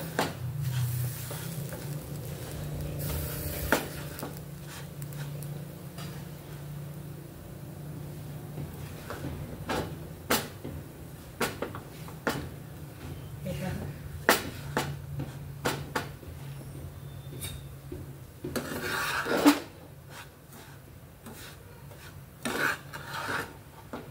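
Roasted mixed flours, sprinkled with milk, are stirred in a pan for ladoos: irregular dry scraping and rasping strokes, close and moderately quiet, with sharper scrapes scattered through a low steady hum.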